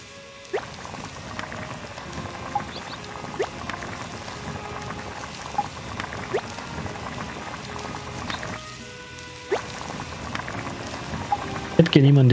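A cooking pot bubbles continuously in the farming-crafting game My Time at Portia, a steady simmering patter with small pops throughout, while someone talks over it.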